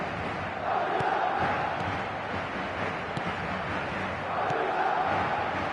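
Stadium crowd noise in an eFootball match, a loud, steady murmuring roar of impatient fans with faint swells and occasional distant shouts, heard alone.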